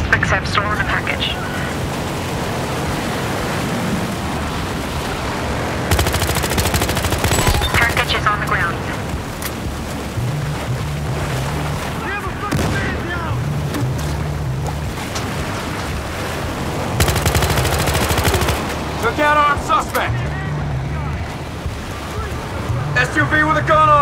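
In Battlefield Hardline, bursts of rapid automatic gunfire from an SUV-mounted gun crackle in short volleys over a rumbling engine and steady background noise, with raised voices shouting in between.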